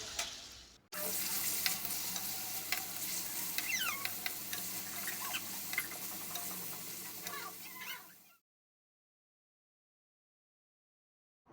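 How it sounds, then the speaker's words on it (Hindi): Half a spoon of ginger-garlic paste frying and being stirred for a chicken karahi, a steady close sizzle with scraping stir clicks for about eight seconds before cutting to silence. "अब हम इसमें आधा चम्मच जो कि है अदरक लहसुन का पेस्ट वो ऐड करेंगे और इसको अच्छी तरह भूनेंगे।"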